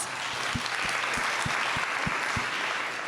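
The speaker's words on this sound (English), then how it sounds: "Let's give these guys a round of applause." A room of attendees at a real estate investing event applauds, a steady, even crowd clapping heard alone, with faint low thumps recurring at regular intervals.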